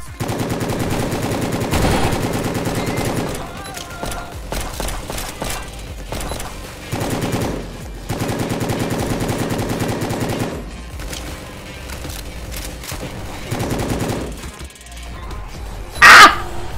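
Gunfire in the video game Prison Life, long repeated bursts of rapid automatic shots in a steady rhythm, broken by short pauses, loud and close, with a sudden sharp crack near the end.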